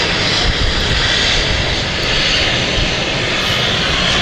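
A Luxair jet airliner roars steadily and loudly, with a continuous broadband engine rush that holds without a break as it passes near the runway at London City Airport.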